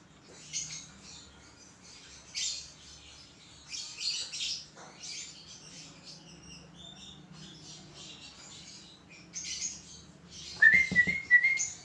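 Baby bird chirping in short high tweets that come in intermittent bursts, then grow louder and denser near the end, over a low background hum.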